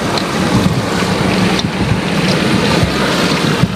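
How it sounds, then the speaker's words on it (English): Heavy Hurricane Harvey rainwater runs from behind a fence and drains away as a loud, continuous rushing wash, steady and broadband with small splashy bursts, nothing else heard over it. "The water is coming from behind that fence and draining down here."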